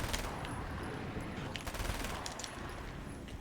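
Rapid SMG gunfire in the Alan Wake American Nightmare video game, a dense continuous burst of shots running the full length with no pauses.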